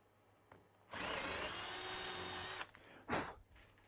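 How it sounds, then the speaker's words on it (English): A power drill bores a clearance hole into a wooden bench seat, a loud, close whine lasting under two seconds, followed by a brief burst of drilling and a few small handling knocks. "And drill the clearance hole."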